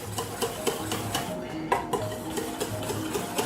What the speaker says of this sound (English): So just lightly beat them with the hand whisk.